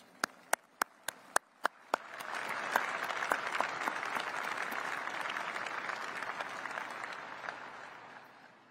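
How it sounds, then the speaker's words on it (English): Large audience at the formal unveiling of the B-21 Raider bomber bursts into sustained applause after a few sharp early claps, a dense, steady wash of clapping that fills the space and slowly thins out near the end. "let's give them a round of applause."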